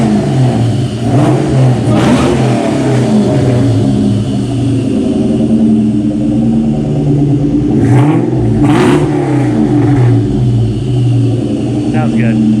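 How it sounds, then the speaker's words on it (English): A Ford SVT Cobra does a burnout, its engine roaring loud and steady with surging revs throughout, while people talk over the noise nearby. "You have to send me that burnout."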